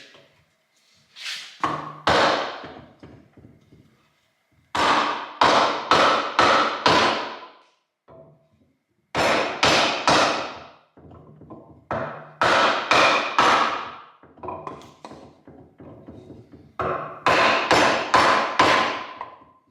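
Sharp, loud hammer blows drive a spacer in through a block of wood during a GM 12 bolt differential ring and pinion install, coming in quick bursts of four to six strikes separated by short pauses.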